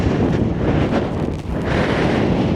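Strong outdoor wind buffets the microphone at a windswept tent pitch, a loud continuous rumbling roar with gusty surges and a brief dip partway through, no voices.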